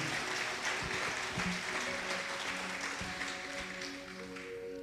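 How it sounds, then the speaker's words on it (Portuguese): Church congregation at a Portuguese-language worship service applauding steadily in a broad wash of clapping that fades slightly toward the end, with faint tonal sounds in the background. "Você pode aplaudir a Ele, ou faça isso com alegria"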